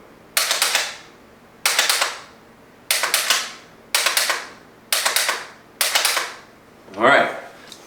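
Six sharp dry-fire clicks from a pistol fitted with a Mantis Blackbeard X trigger system, evenly spaced about a second apart, loud and close, followed by a softer, different rattling sound at the end.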